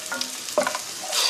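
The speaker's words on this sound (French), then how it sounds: "Je fais revenir le tout, évidemment" Onion and minced meat sizzle and get stirred in a non-stick pot, a steady close frying hiss broken by brief scraping stirs.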